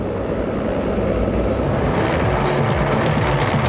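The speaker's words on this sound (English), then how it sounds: "Comer's bike whisked off by a helicopter as Desprez rode it in." A helicopter flies close overhead during a Lisbon to Dakar rally, carrying off a rally motorbike, its engine and rotor noise a loud, steady roar with no talk.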